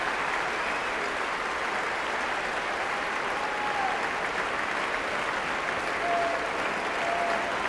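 At the 2010 Wimbledon first-round match against Novak Djokovic, the crowd gives Olivier Rochus dense, continuous applause that stays loud and even throughout, with no talking over it.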